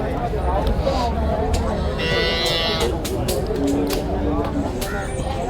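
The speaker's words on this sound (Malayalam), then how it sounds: "അടിപൊളി പശുക്കൾ." Dairy cows low and moo on a Kerala farm, with a long, loud call near the middle and shorter moos around it, heard under close, continuous talk from people nearby.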